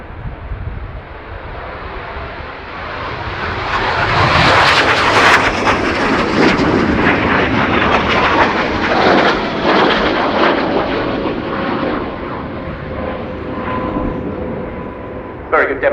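Spanish Navy jets of the 9th Squadron from Rota fly a display at the Royal International Air Tattoo 2019, a loud sustained engine roar swelling and fading overhead, with a commentator talking over it.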